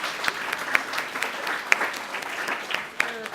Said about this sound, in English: Let's have a round of applause for these wonderful young people.